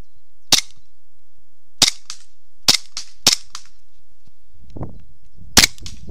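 An STI Duty One gas airsoft pistol fires BBs in five sharp, separate snaps spaced about a second apart, loud and close, with a low rustle just before the last shot and no talk.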